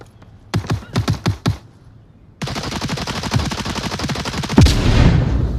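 Gunfire in the VR shooter Onward: a few loud separate shots, then a long rapid burst of automatic fire that carries on to the end, close and harsh.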